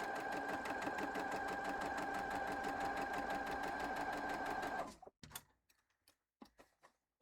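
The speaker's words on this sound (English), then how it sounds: "And I'll sew my last half square triangle from the roof." A sewing machine stitches a half square triangle quilt block, running in a steady, rapid mechanical chatter for about five seconds, then stopping, followed by a few scattered clicks and handling knocks.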